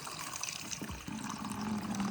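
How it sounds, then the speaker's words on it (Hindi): Hot water running from a tap fed by a wood-fired water heater at a hill home, a steady close pour that starts with a brief gurgle and then flows on continuously. "अब यहाँ से देखो ये खुलेगा नलका"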